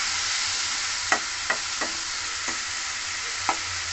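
Pumpkin chokka with a mixed spice paste fries in a pan, a continuous sizzle broken by several distinct scrapes of a spoon stirring at irregular intervals.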